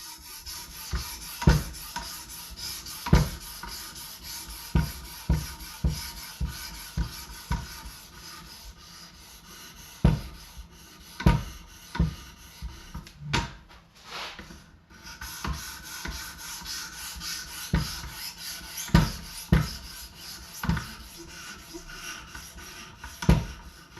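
A vintage carbon steel knife is drawn across a sharpening stone in repeated short scraping strokes, an irregular rhythm of close, crisp rasps with brief pauses between them.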